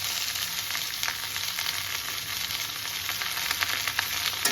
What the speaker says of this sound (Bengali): এবার এটাকে আমি যতক্ষণ না লাল লাল করে ভাজা হবে ততক্ষণ কিন্তু আমি এটাকে ভাজতে থাকবো